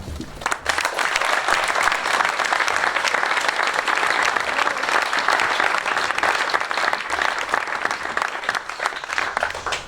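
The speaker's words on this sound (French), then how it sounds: "je voudrais simplement que nous applaudissions les récipiendaires de ce matin" A large audience at a Bastille Day ceremony in Mont de Marsan applauds the recipients, with dense, sustained clapping that starts sharply and stays loud and steady throughout.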